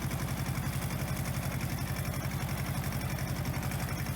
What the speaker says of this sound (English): Since this is a small tractor, it's only 15 horse, I'm being very gentle on it.